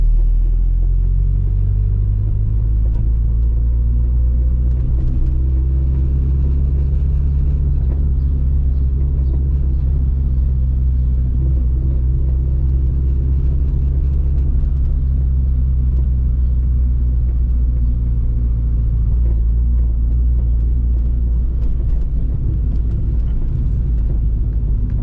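A Porsche 944 Turbo engine runs under way while driving, a loud, constant low rumble with a steady droning tone that holds and shifts only slightly throughout, with no talking over it.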